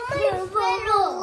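A voice imitates an angry dog, a short run of growly, wavering barks and howls lasting about a second, close and fairly loud.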